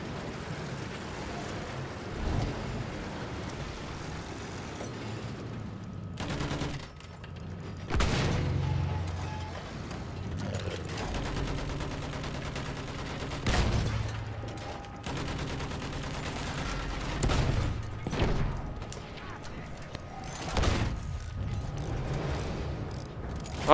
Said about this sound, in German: Ich habe jetzt gar nicht erwartet, dass ich jetzt eine vollautomatische Waffe habe.